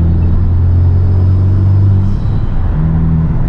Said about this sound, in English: This auto rev matching is amazing too.